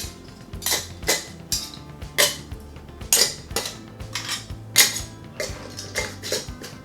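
Glass canning jars fitted with metal rings set one after another into a canner while canning beef stew meat, a rhythmic run of sharp clinks and clatters close by, about a dozen knocks of glass and metal.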